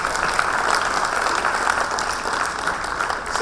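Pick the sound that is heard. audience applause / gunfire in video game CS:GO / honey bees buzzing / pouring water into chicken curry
audience applause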